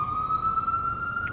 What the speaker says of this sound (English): I think I'll wait for the siren to go by. It's a ambulance.